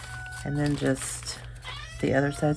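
A pet cat meows several times indoors, near and fairly loud, its calls overlapping a woman's speech during a paper-bag journal crafting session.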